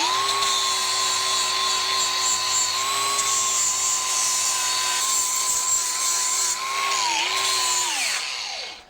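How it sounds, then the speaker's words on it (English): A grinder whines steadily at close range, grinding powder coat off a weld bench for a spot to weld, holding a high sustained pitch that dips briefly before spinning down at the end. "I'm going to grind a little bit of this powder coat off here so I have a place to weld to"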